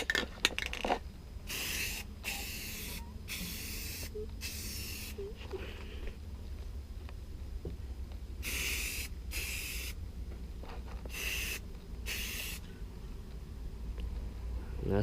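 A motorcycle frame receiving a medium to heavy coat of spray paint: repeated hissing bursts of a spray can, a few seconds each and separated by short pauses, close over a steady background hum.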